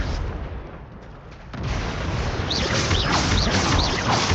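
Confringo blasting spell cast in the Hogwarts Legacy video game, a sustained loud fiery rumble with a surge after a brief dip and several whooshing sweeps near the end, with no talk.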